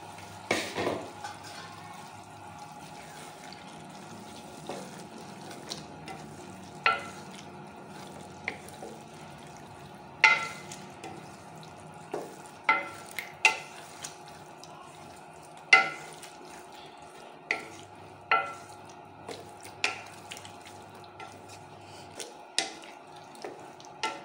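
Four small-cut potato pieces frying in a pot of cooking food, with a faint, low sizzle and scattered close clinks and scrapes of stirring at uneven intervals, no talking.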